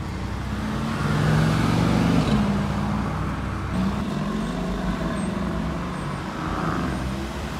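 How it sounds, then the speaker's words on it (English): Busy car traffic crawls through Sea Point, Cape Town, a continuous rumble of idling and slowly moving engines with passing vehicles swelling close by. "There is actually quite a lot of cars in C Point today."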